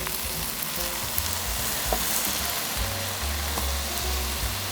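Leftover broth is poured beside hot nurungji rice crust in a samgyetang pot, producing a dense, steady crackling sizzle with occasional pops.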